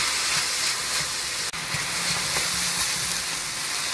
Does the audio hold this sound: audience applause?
no